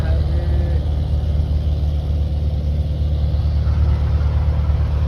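A trawler boat engine runs steadily on the Turag river, a loud continuous low-pitched drone that holds throughout without pause.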